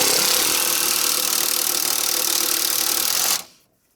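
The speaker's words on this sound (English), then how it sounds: "You're just drilling in the frame and taking that bracket you showed earlier" Steady, loud whir of a power drill boring sideways into a truck frame, running close and unbroken for about three seconds before stopping abruptly.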